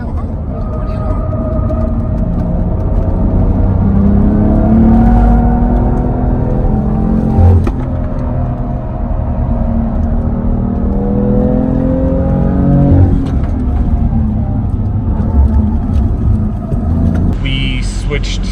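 A BMW driven hard on a performance driving track, its engine surging and dropping as it brakes deeply and accelerates again, heard from inside the car with people talking over the engine throughout.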